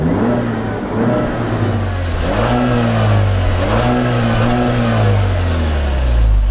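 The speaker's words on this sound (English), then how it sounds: "This brand new 2-liter turbo, it's very powerful, puts out 270 horsepower and 295 pound-foot of torque." The 2.0-liter turbocharged engine of a 2019 Jeep Cherokee Trailhawk, rated at 270 horsepower, revs loudly and close up on off-road terrain, its pitch climbing and falling in several repeated surges.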